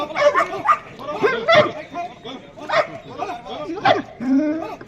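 Police dogs at a ceremonial parade give several loud, sharp barks and yips in quick bursts, close by, mixed with bits of talk.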